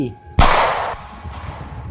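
A single sharp gunshot sound effect cracks out loudly, followed by a short fading echo and low background rumble.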